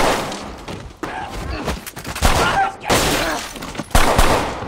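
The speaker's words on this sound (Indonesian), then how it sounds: "Dalam baku tembak melawan antek Rashid, Saju kemudian muncul dan menyerang Tyler" Gunfire during a shootout in an action film: loud, sharp shots and impacts arrive in irregular bursts over a dense, busy soundtrack.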